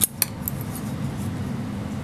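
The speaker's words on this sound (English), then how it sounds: "cut a little snip, tiny little snip with your scissors" Scissors give a couple of tiny crisp snips through folded paper for a flower, near and quiet, followed by a soft steady hiss with no talking.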